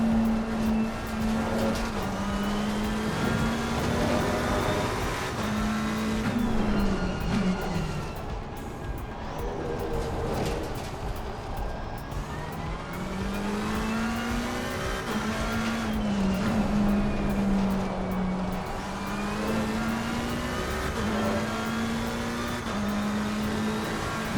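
A race car in Assetto Corsa Competizione laps Brands Hatch, its engine droning steadily and rising and falling through gear changes and corners, with occasional tire noise.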